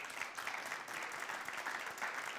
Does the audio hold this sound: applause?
yes